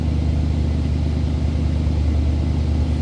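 A 1986 Pontiac Firebird Trans Am idles with its engine running, giving a steady, deep exhaust rumble close by, with no voices over it.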